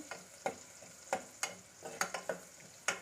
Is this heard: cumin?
yes